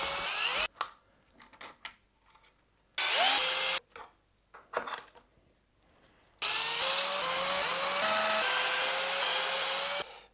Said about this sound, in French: Il faut percer, traverser complètement et mettre boulon écrou quoi avec des rondelles là